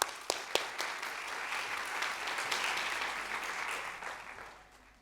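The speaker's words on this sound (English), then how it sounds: "Join me in a round of applause to recognize this momentous occasion" Audience at an Emirati women achievers awards event applauding; a few sharp early claps build into sustained, fairly distant clapping that thins out after a few seconds.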